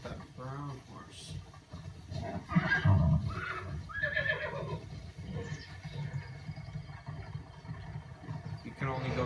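Horse neighing in the video game Zelda: Breath of the Wild, a couple of whinnies early on over steady game ambience and some speech, with a fainter call later.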